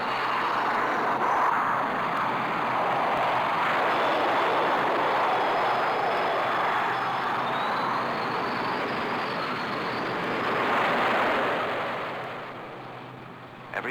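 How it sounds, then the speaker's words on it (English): A 20-ton aircraft launching from a standing start, a steady broad roar of jet engine and rushing noise that holds for many seconds, then fades toward the end. "From a standing start, 20 tons of aircraft reach flying speed in 2 seconds flat."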